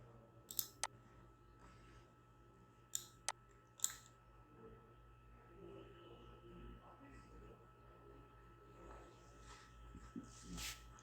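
Quiet computer mouse clicks while opening a new script in MATLAB: a few sharp, close taps early on, then faint shuffling over a low background hum.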